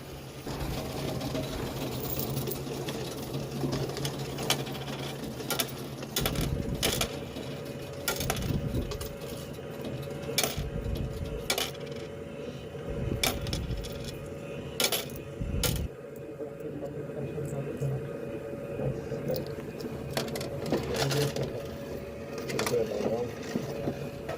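A coin machine grinds and rattles steadily while processing coins, with sharp metallic clicks and clunks scattered throughout, under a constant mechanical hum.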